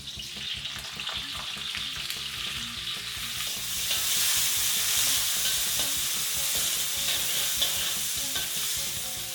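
Chopped onion dropped into hot oil in a kadhai already holding green chilies, ginger and garlic, frying with a steady loud sizzle that swells after a few seconds, with spoon stirring scrapes throughout and no talking.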